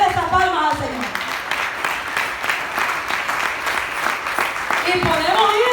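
Church congregation clapping for the Lord, a sustained burst of applause in the middle framed by a voice speaking at the start and end.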